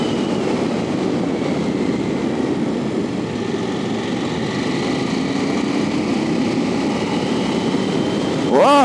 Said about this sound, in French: un bicylindre qui se montre ma foi assez souple hein, quand même